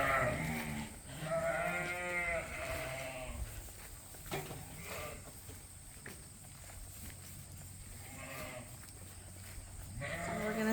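Pregnant ewes bleat repeatedly in a barn, several loud close calls, especially near the start and end, mixed with shuffling hooves and footsteps as a person herds the flock.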